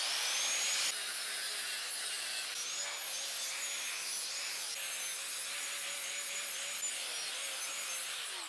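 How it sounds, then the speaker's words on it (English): A steel shaft being cut through with a power tool, giving a continuous bright, harsh grinding hiss with faint wavering whines, steady and close throughout. "So I'm just gonna cut the top of the ball on this shaft"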